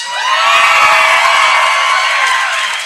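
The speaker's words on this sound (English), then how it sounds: "Why are you cheering?" Loud, dense audience cheering and whooping at PAX Prime 2013, a sustained roar of many voices with shrill yells on top that swells early and holds steady throughout.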